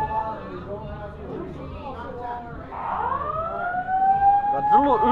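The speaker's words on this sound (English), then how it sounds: "It's a false alarm. We don't have to evacuate the building." A fire alarm sounds inside a building during a G-Fest convention, its rising, siren-like wail swelling louder and steadier in the final seconds while voices talk over it throughout.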